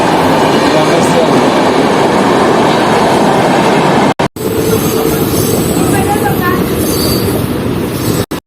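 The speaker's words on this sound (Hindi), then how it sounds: "अब यहाँ से वापस ट्रेन पकड़ता हूँ" A train passing through a station in Mumbai fills the scene with a loud, continuous rumble and rattling wheel noise, with two brief dropouts midway before the roar resumes and carries on to the end.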